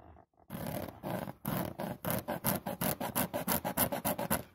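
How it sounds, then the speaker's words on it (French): A finger scratching mouldy fabric inside a Mini convertible, a close, faint rasping rub repeated in quick regular strokes, about twenty, that speed up toward the end. "je vais gratter avec mon doigt"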